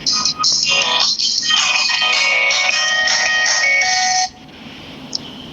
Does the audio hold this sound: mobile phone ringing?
yes